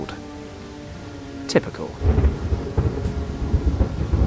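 Rain patters steadily at a small deserted station in the video game Lost Horizon, with a sharp thunder crack and low rumbling under a steady downpour; a voice speaks briefly.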